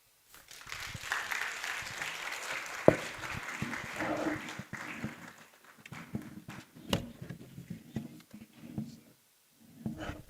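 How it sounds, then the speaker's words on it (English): Conference audience applause for a speaker at a day-three closing session, a burst of clapping in the first few seconds that thins out into scattered claps and room noise. "Let's clap for him once again."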